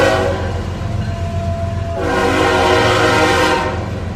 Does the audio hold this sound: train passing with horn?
yes